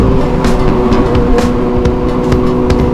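Sport motorcycle engine, a Kawasaki 636 ridden alongside a Honda CBR600 on the road to Puncak near Bogor, revving hard in loud, continuous bursts with steady road and traffic noise, no talk.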